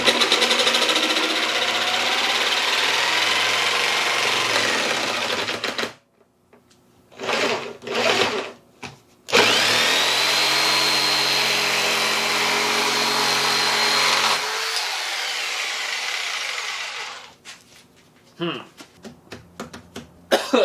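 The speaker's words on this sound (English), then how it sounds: "you can take your jigsaw, which I also have very, very, very limited experience with, and we should be able to just cut this out" A jigsaw cuts through a board with long stretches of loud, close, buzzing reciprocating noise, broken by short pauses and bursts of restarting, then trails off near the end as a voice speaks in the gaps.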